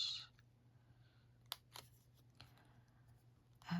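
Scissors snip through thin paper to cut out a delicate star shape, producing a few quiet, separate crisp cuts in a hushed room.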